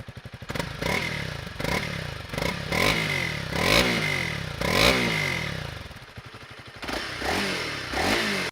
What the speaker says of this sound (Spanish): Ahora escuchemos un momento su motor para que te animes un poco si la vas a comprar.